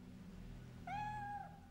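A cat gives a single clear, drawn-out meow in the video game Project Zero 3, over a low steady background hum.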